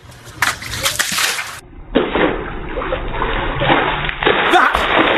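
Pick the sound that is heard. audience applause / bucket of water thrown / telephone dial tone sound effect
bucket of water thrown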